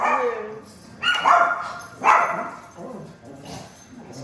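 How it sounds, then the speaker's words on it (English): Household dogs barking, likely at someone at the door: two or three sharp barks come from a room or so away, under and between a woman's speech. "excuse my dogs. Somebody must be at the door"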